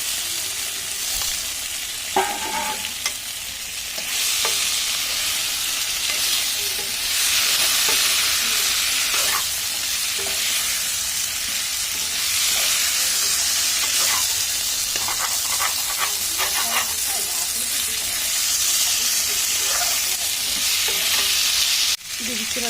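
Oil sizzling steadily in a pan while pre-fried potato and pointed gourd are stirred in for a paneer dish, with a constant close hiss broken by scraping stirs throughout.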